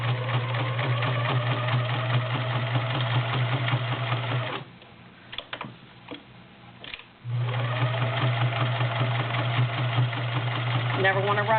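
A vintage convertible Kenmore sewing machine with a size 16 needle stitches through five layers of denim, running in a steady loud mechanical whir that stops briefly with a few clicks, then resumes.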